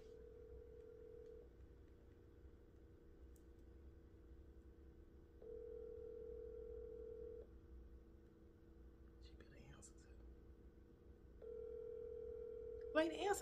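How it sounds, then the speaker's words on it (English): Faint outgoing phone ringback tone, repeating in long evenly spaced pulses while a call is placed, quiet and low over soft background noise. "Wait to answer this phone."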